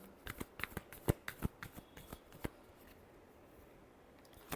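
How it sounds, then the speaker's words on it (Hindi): Tarot cards shuffled by hand in a string of quick, crisp riffling snaps, a dozen or so bursts over the first half, then quiet room tone with one last snap at the end. "last shuffle"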